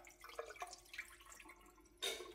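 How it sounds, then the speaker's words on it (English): Rice-washing water is poured off into a sink, with faint trickling and dripping splashes that end in a brief louder gush close by. "So I'm just gonna pour off that washing liquid"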